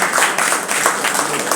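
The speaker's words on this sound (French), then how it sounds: "Ça mérite des applaudissements, ça." An audience applauds at a Socialist Party event in Senegal backing a presidential candidate's programme, a dense, continuous patter of many hands clapping at close range with a faint murmur of voices underneath.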